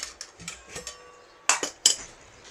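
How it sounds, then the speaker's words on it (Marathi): A cooking pot is set down on a gas stove, giving a few close metallic clinks and knocks, with a louder sharp clank near the end. "हे बघा गॅसवरती मी पातेलं ठेवलं आहे."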